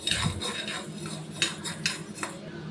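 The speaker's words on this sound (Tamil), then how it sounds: "அரை கப் அளவுக்கு கொள்ளை நல்லா வறுத்துக்கணும், வாசனை வர வரைக்கும்." Horse gram dry roasting in a pan for half a cup's worth, with scraping, clinking stirs and light rattling of the grains at close range, no voices.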